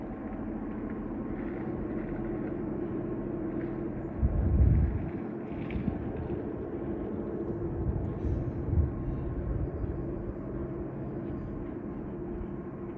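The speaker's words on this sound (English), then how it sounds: "Yeah, they're notching down big time now." Freight train locomotives notching down their throttle near Lake Wales, Florida, a low droning diesel rumble that holds steady with a couple of brief louder swells, heard at a distance with no talk.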